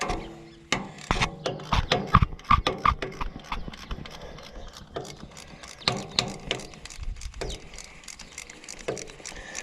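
Ratchet working on a fuel tank line fitting of an Oliver tractor in a cramped spot, giving short irregular clicking and clanking bursts with pauses, close and fairly quiet, no talk.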